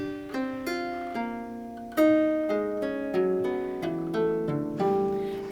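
Bowed strings of a 14-string lirone in reentrant tuning sounded one after another in a stepping pattern, each note swelling then overlapping the next, played alone and moderately soft.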